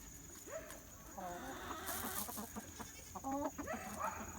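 A Polish chicken clucks in a barnyard in short, nasal, rising calls and quick clucking bursts, fairly faint over a steady background hum, with people talking nearby.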